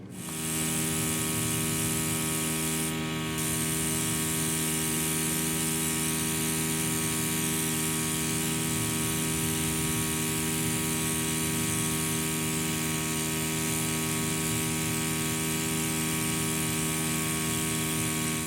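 Makeup airbrush spraying foundation, a steady, close electric buzz and hiss from the compressor with a constant tonal hum that runs unbroken throughout, with a brief burst of brighter hiss near the start.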